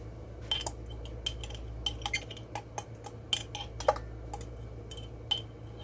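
A metal tablespoon scrapes and clinks against a glass jar of homemade ghee in a kitchen, giving a rapid series of sharp, close ticks over a steady low hum.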